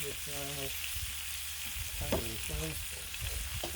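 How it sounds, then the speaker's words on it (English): Vegetable oil sizzles steadily on a hot Blackstone griddle before shrimp fried rice goes on, a close, even hiss that carries through short squeaky tonal bursts in the foreground. "Throw on some veggie oil."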